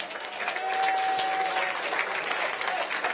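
An audience at a sports and business awards night claps for a nominee, a sustained, moderately distant round of applause with a faint steady tone running briefly underneath.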